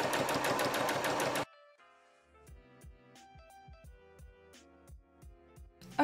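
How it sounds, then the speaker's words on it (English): A sewing machine runs a long basting stitch on a vintage 1930s-style bralette and shorts, a dense steady whirring burst for about a second and a half before it stops, then quiet plucked tones continue. "we're using the method where you sew with a really long stitch and then pull the thread"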